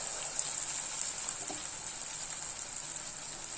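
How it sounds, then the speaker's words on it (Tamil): Idli batter bondas fry in hot oil, giving a steady, even sizzle with a bright hiss that holds at the same level throughout and no voices. "இப்போ எண்ணெய் சூடாயிடுச்சுங்க. இப்போ நம்ம இந்த மாவு இதில் போட்டுடலாம்."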